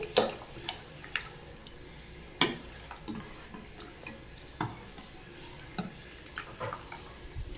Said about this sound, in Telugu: ఇప్పుడు ఇదంతా మిక్స్ చేసుకున్నాము.